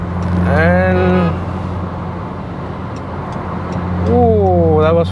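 A tuned Ford Aspire diesel car, remapped to 160 hp and 350 Nm, accelerates through its gears. The engine note climbs steadily, drops back during a quiet shift, then surges upward again in a second strong pull.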